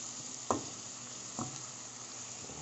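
Chop suey vegetables are stirred in a pan over a soft steady sizzle, with two distinct scraping strokes of a utensil and a fainter third one near the end.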